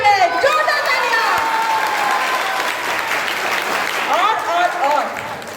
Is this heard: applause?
yes